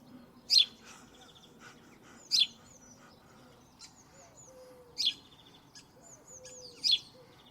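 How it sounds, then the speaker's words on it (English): Outdoor birdsong near nests with four sharp, evenly spaced chirps standing out, while softer whistles and a low, faint cooing sound like a dove calling in the background. "Call the dove in the background."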